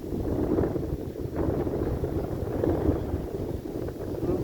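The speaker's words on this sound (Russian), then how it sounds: "ветер сегодня вообще очень сильный" Strong wind blowing at a riverbank while fishing, a steady low roar and rumble from the wind buffeting the microphone, continuous and fairly loud, rising and falling slightly.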